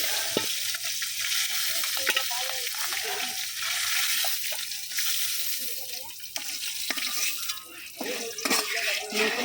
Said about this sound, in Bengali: আমার এই যে মাছগুলো ভাজা হয়ে গেছে, হালকা ভাজা।